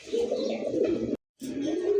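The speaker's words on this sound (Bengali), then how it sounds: "এর যে ডাক দিয়ে শুরু করছে 2 মিনিট হয়ে ওর ডাক থামে না, দেখছেন?" A pigeon, one of a loft of racing and fancy breeds, coos steadily in low, throaty rolling notes close by, broken by one brief silent gap before resuming.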